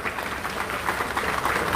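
A crowd claps at an outdoor political rally, a dense, fairly distant wash of applause that holds steady and swells slightly toward the end.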